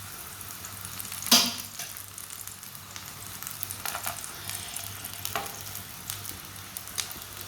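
A rice roti cooks on a griddle greased with ghee, giving a steady, soft sizzle throughout, broken by one brief sharp scrape and a few faint clicks.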